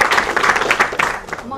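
An audience at a 2022 graduation ceremony claps in a loud, dense burst that starts strong and thins out toward the end, with a voice faintly audible underneath.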